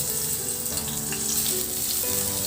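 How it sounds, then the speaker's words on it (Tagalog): Garlic sautéing in hot cooking oil in a pan, giving a dense, continuous close-up sizzle throughout with no talking. "igisa na rin yung bawang."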